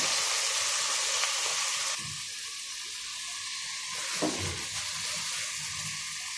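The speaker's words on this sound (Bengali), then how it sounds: "লাউটা দিয়ে দিলাম তেলের সাথে।" Bottle gourd pieces fry in hot oil in a pan, giving a steady close sizzle that softens after a couple of seconds, with a brief stirring scrape partway through.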